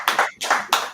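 An audience claps in three short, loud bursts with brief pauses between them, heard close and on its own with no talk over it.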